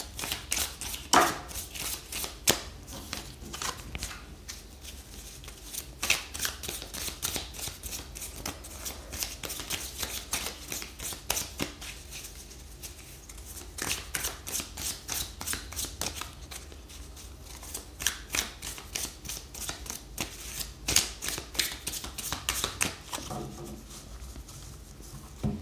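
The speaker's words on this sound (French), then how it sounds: "Et je vais tirer 6 cartes pour vous." Tarot cards are shuffled and drawn for a horoscope reading, giving rapid bursts of crisp riffling and flicking with short pauses between them, close and quiet, without talk.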